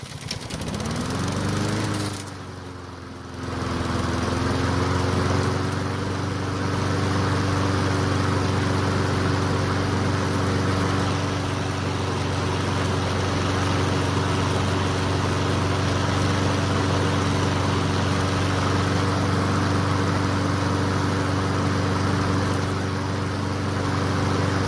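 A small Honda lawn mower engine, newly fitted with a replacement carburetor and spark plug, sputters to life and settles into a loud, steady running drone that continues without a break.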